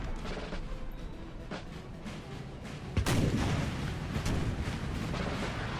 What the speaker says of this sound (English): So the Austrians have some howitzers.